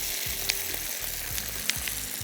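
Pasta in a pan sizzles steadily while cream is stirred in, with soft rhythmic scrapes and clinks of the utensil against the pan close by.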